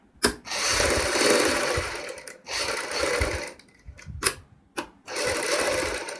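A sewing machine stitches a boat-neck kurti neckline in loud, close bursts of rapid needle whirring, several runs broken by short pauses and clicks.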